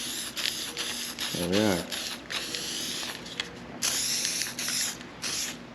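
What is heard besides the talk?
spray painting tractor hydraulic line brackets black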